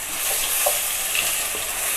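A ground ginger, garlic and onion paste frying in hot oil, giving a dense, even sizzle with a few soft spoon touches, close and steady throughout, no talking.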